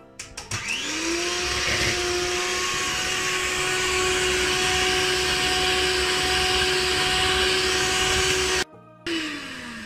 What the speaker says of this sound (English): I'm going to mix it until the eggs become white and bubbly.